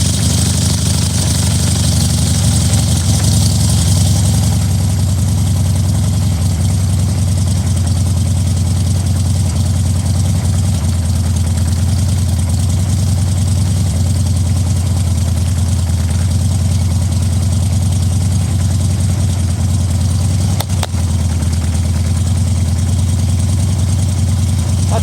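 A Harley Dyna motorcycle engine runs steadily while being ridden near Everett Veterans Memorial Field, a loud, continuous low throbbing rumble with constant wind noise throughout and a brief shift near the end.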